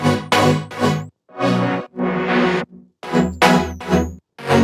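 Two layered wavetable synths play together for a track's drop, a lower layer and a higher one, as bright sustained chords in short rhythmic bursts with brief gaps between hits, loud and alone.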